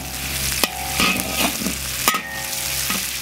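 Ginger, garlic and doubanjiang bean paste stir-fried in a hot wok, a steady loud sizzle with sharp spatula scrapes and clanks at intervals.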